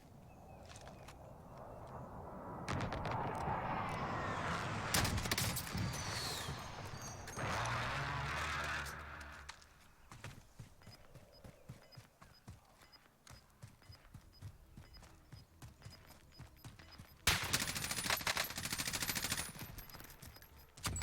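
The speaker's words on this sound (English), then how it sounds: "He's getting shot at from up there." Gunfire in the battle-royale shooter Call of Duty: Warzone, with rapid bursts and scattered shots mixed with footsteps and movement, loudest in sharp broadband bursts near the start and again late in the sequence.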